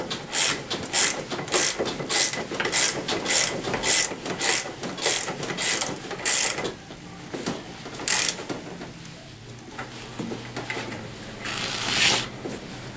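A ratchet tightens the front wheel on a Tao Tao ATM50A scooter with a rapid run of loud, close clicking strokes that pause and then resume for a last brief burst.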